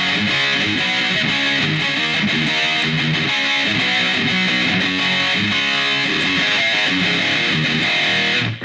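Electric guitar played through a BOSS eBand amp with a dry, heavily distorted tone, a dense, loud, continuous run of chugging riffs and sustained notes, no voices.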